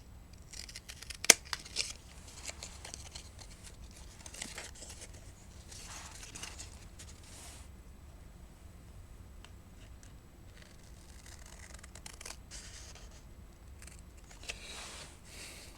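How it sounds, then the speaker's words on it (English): Scissors cutting the striker strips off cardboard matchboxes, a few quiet snips and crinkles scattered over a faint background, with one sharper click early on. "I'm going to cut off the striker strips"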